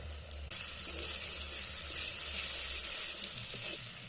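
Ground black pepper and cumin frying in oil in a pan for a chicken dish, giving a steady close sizzle and hiss with a sudden rise in sizzle as the spices go in.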